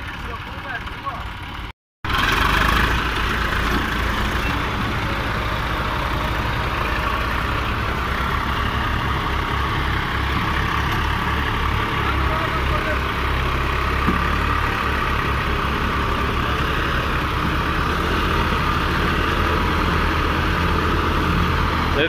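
A John Deere 5310 tractor idles with a loaded sugarcane trolley hitched behind it, its engine giving a steady, loud, low rumble that runs almost without a break after a brief cut near the start.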